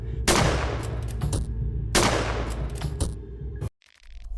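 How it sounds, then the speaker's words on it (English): Gunfire in the video game Fear and Hunger: Termina, two loud close gunshot blasts about two seconds apart, each with a long ringing decay, followed by a sudden drop to near silence. "somehow fire 2 bullets while only using 1"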